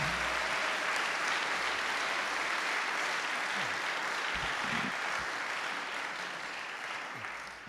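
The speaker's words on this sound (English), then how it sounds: "Thank you for that applause." A chapel audience at Wabash College applauds a speaker, steady dense clapping filling the room for the whole stretch and tapering slightly at the end.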